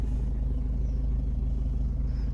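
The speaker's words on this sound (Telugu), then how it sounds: "కార్ అయితే స్టార్ట్ చేశాను" A 2018/19 Ford EcoSport Titanium with manual gears idles steadily after being started, a continuous low engine rumble held at an even level throughout, with no talking.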